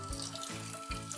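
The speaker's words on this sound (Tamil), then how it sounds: "இப்போ வந்து எண்ணெய் நெய் ரெண்டும் சூடாகிடுச்சு. இதில் வந்து நம்ம 2 பட்டை, 2 கிராம்பு, ஒரு ஏலக்காய் ஆட் பண்ணிக்கலாம்" Cinnamon, cloves and cardamom sizzling in hot oil and ghee for mushroom biryani, a close, steady crackling fry with a few louder spits and bursts.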